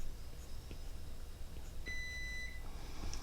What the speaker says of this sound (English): there's my buzzer. There's the buzz.